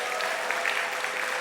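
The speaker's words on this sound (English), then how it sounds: "Let's give them a round of applause" Audience applauding the TCC Blue Moon Jazz Ensemble at a school music event: dense, steady clapping from a crowd, moderately near and continuous throughout, with no voices over it.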